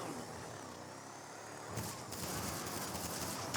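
Gunfire in GTA 5, a sustained burst of shots that breaks out partway through over a steady background of game engine and traffic noise, fairly distant and muffled.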